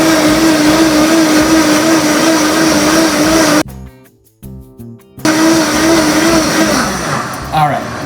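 Blender running continuously while pureeing warm cream of asparagus soup, a loud steady motor whine that cuts out briefly near the middle, then resumes and winds down.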